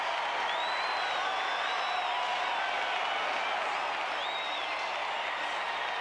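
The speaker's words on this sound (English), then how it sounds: "Listen to this crowd." A baseball stadium crowd roars and whistles after a Braves win over the Reds, a continuous distant wash of cheering and applause with whoops rising through it.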